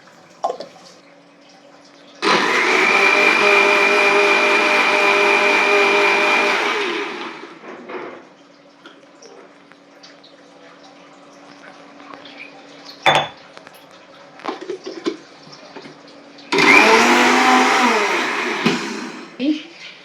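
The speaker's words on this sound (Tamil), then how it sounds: "இப்போ அதை நைஸ் பேஸ்ட்டாக அரைச்சிட்டு பார்க்கலாம்" A mixer grinder grinds chilies, ginger and cumin into a paste in two loud, whirring bursts. Between them come quieter clinks of the jar and utensils.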